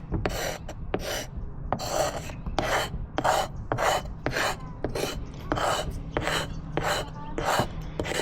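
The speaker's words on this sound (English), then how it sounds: "just taking a knife and I'm just scraping off the excess here." A knife blade scrapes excess material off a Jeep Wrangler JL fender flare in repeated rasping strokes, about two per second, close and steady with no talking.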